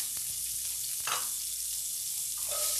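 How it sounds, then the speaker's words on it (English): Onions go into a hot, oiled pan and hit it with a loud, steady sizzle, while a few close clicks and scrapes of stirring sound over the constant hiss. "We're gonna add the onions"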